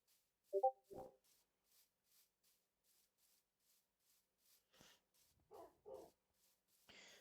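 Dogs in the video game Minecraft let out a couple of short barks early on, then a few softer yips later, all faint and with no talking over them.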